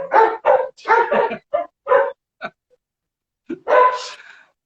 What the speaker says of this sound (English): inside where I can't control the barking dogs